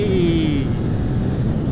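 A Triumph Speed Triple motorcycle accelerating hard toward 70, the engine note rising then holding under loud, steady wind roar close to the rider.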